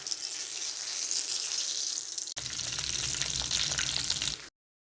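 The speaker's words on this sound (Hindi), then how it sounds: "मीडियम टू लो फ्लेम पे हम इन्हें फ्राई करेंगे।" Bread and potato snacks frying in oil over a medium-low flame, a dense, even crackling sizzle heard close up, briefly cut once and then ending abruptly in silence.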